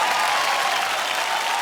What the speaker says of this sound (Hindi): दिल से जोरदार तालियां हो जाए आदि भाई के लिए।